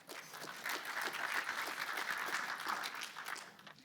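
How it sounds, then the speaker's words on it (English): A conference audience gives a sustained round of applause, steady and dense for several seconds before tapering slightly at the end, with no talk over it. "Let's give her a big round of applause."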